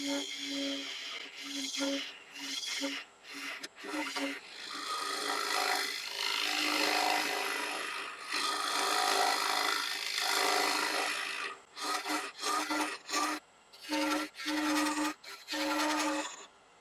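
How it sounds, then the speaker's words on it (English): A small round carbide tool cutting a live edge wooden bird's mouth vase on a lathe, giving a continuous close scraping rasp with a steady hum beneath, broken by several short pauses as the tool lifts off. "I'll start off with this little round carbide first."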